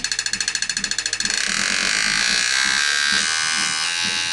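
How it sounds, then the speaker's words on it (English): A harsh, buzzing high-voltage ignition spark on a Top Fuel Harley crackles steadily, starting as a pulsing rattle and settling into a continuous loud snarl over an engine hum idling at 2600 RPM. "There's 2600 RPM idle. Pretty fair. It's a big spark, making some noise."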